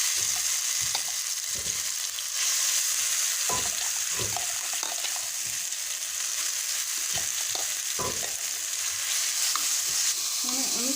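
Crushed boiled beetroot fries in coconut oil in a pan, a steady close sizzle with repeated scraping and knocking as it is stirred, and no talking.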